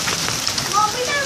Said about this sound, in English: Well, this is a hailstorm.